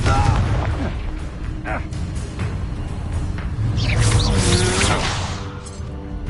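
The Confringo explosive spell cast in Hogwarts Legacy brings booming, crackling bursts that swell loudest near the end, mixed with game effects and a voice.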